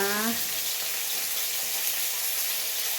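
Chopped tomato and onion frying in a pan for Filipino ginataan, a steady, even sizzle close by, after a short tonal sound at the start.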